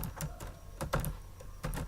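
Someone types Python code on a computer keyboard, producing quiet, irregular clusters of key clicks with short pauses between them and no speech.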